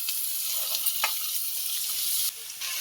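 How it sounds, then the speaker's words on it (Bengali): A fish curry of rohu pieces, fish head, potato, cabbage and papaya simmering and sizzling in a pan, with a steady bright hiss, a few faint stirring scrapes and no speech. "বন্ধুটা এবার ভালো করে আমি এটা নেড়ে দেবো তরকারিটা"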